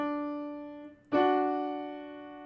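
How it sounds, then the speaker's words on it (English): A descending major third for singing ear training, heard as a held upper tone followed by a lower note struck just after the midpoint, both ringing clearly and fading gradually in a quiet room. "A major third going down sounds like this."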